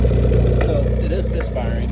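Engine of a 2015 Ford Focus ST idling with a misfire, a loud, rough, uneven low rumble that stays steady and close throughout.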